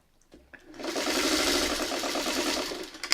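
A sewing machine stitching fabric, a steady close whir that rises quickly and runs evenly for about two seconds before slowing and stopping with a couple of clicks.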